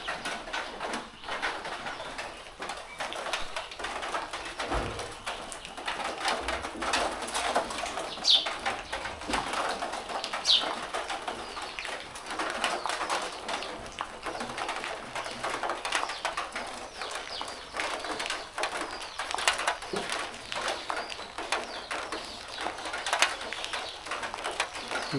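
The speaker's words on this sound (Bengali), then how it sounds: "আর কবুতরের সেই বৃষ্টির পানিতে গোসল করা, সেটা আপনাকে দেখানোর চেষ্টা করব।" Pigeons bathing outdoors in light rain, with soft cooing and occasional wing flaps over a steady hiss of falling rain, continuous and moderately faint throughout.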